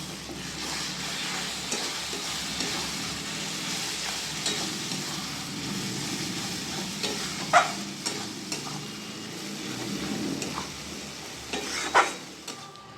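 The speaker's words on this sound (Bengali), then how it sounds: "আমি এখানে 2টো টমেটো বেটে নিয়েছি, দিয়ে দেবো পেঁয়াজের মধ্যে। টমেটোটা পেঁয়াজের সাথে মিশিয়ে নেব।" Ground tomato paste from two tomatoes is stirred into frying onions for Bengali mutton kosha, producing a steady sizzle under scraping spoon strokes with a few sharper clinks against the pan; no one talks.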